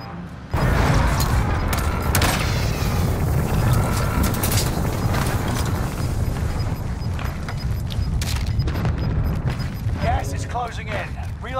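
Rapid video game gunfire crackles continuously over a dense, loud battle mix with engine-like rumble, persisting for the whole stretch with talk mixed in.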